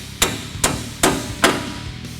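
A hammer taps bolts into place during a 2-inch Skyjacker leveling kit install on a 2009-2016 Ford F-150, striking four evenly spaced, sharp metallic blows up close with no talk.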